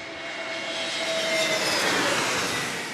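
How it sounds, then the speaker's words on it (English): American Airlines Airbus A321neo jet airliner, out of Dallas-Fort Worth and near San Diego airport, rumbling as a broad steady jet roar that swells slightly and fades, with no talk. "A321neo from DFW for American Airlines"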